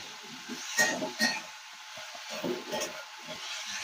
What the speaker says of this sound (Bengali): এবার ডাঁটাগুলো দিয়ে দেবো।